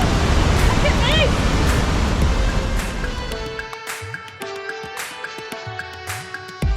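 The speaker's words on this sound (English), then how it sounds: "This 15-metre high cascade is the incredible Kozjak waterfall, and unusually, it's almost entirely enclosed in this huge cave." Roaring, continuous broadband rush of the 15-metre Kozjak waterfall cascading inside a large cave in Slovenia, loud and steady at first, then easing as tonal ringing and other sounds take over.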